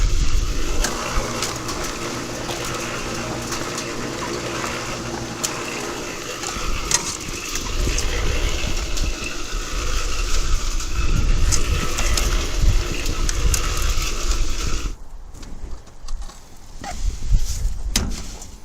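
Soil making machine processing garden material for a raised bed, a continuous mechanical rumble and grinding with clanking and scraping that shifts in intensity, then briefly drops off and surges again near the end.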